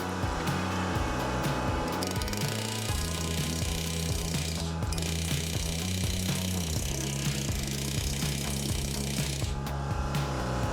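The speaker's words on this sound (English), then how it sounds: "just planishing that area down smooth" A planishing hammer smooths a sheet metal bucket seat cab brace for a 1969-72 Chevy/GMC C10, fitted alternately with soft and hard inserts. The rapid hammering runs loud, close and steady throughout.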